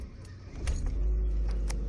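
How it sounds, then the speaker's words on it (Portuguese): A supercharged 2003 Ford Fiesta engine starts inside the car: a brief starter whir, then a low, steady idle rumble swelling and holding, heard close from the cabin with no talk. "E vamos dar a partidona aqui no carro."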